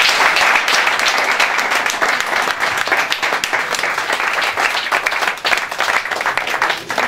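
Audience applause for a Miss Prestige Nouvelle Aquitaine pageant candidate, loud, dense clapping from a crowd that holds steady throughout with slight swells.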